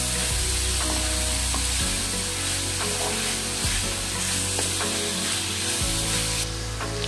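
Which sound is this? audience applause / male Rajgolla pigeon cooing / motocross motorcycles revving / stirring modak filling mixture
stirring modak filling mixture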